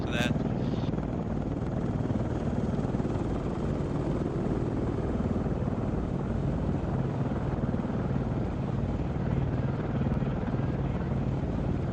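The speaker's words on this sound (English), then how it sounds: "there's a chopper coming down, boys" A helicopter descends with a steady, loud rotor and engine drone that holds evenly throughout, close and continuous with no break.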